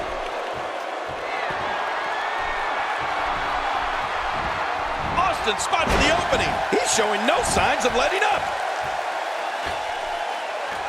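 In WWE 2K16, a commentator talks continuously over a steady arena crowd roar for Stone Cold Steve Austin that swells with cheers and a few sharp impact thuds midway.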